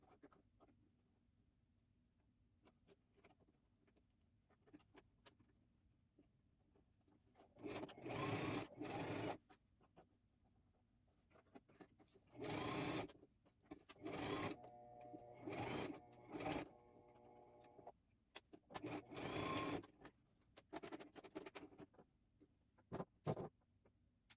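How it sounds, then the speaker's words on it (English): A sewing machine stitches a piece onto a frontal wig, running in short bursts of rapid mechanical whirring separated by quiet pauses and faint handling, close and alone. "I'm just going to sew it in here"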